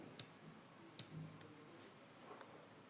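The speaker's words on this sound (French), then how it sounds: "Donc, on va cliquer ici." Computer mouse clicking during spreadsheet work, two sharp close clicks about a second apart followed by a fainter third, quiet room otherwise.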